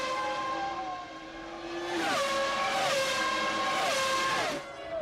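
1998 Formula 1 race cars, including Ferraris and McLarens, howl around the circuit with high-revving engines. Rapid upshifts come in quick succession as several cars pass fairly close in a continuous roar.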